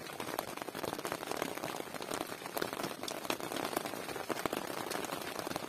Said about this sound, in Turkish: Güzel de yağmur yağıyor ya.